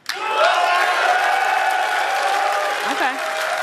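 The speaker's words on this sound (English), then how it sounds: "let them cheer at that one." Audience at the Xbox X019 event in London bursts into loud applause and cheering that rises quickly and holds steady, a dense wash of clapping with scattered whoops, heard alone.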